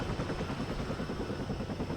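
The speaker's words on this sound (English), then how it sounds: "our AH1Z Viper doing some damage here. It's the Marine Corps attack helicopter" An AH-1Z Viper Marine Corps attack helicopter in the combat game WARNO, its rotor chopping in a steady, dense, close roar that fills the whole stretch without pause.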